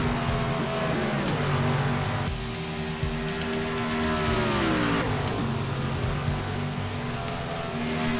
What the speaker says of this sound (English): Bernard Silva in his 87 car, making his laps in the warm-up session